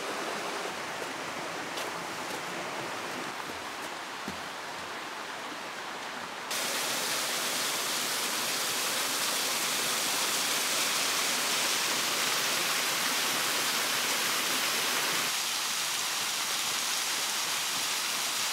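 A waterfall on Chiaksan mountain, a steady broadband rush of falling water that grows louder and fuller partway through and continues unbroken, with no voices.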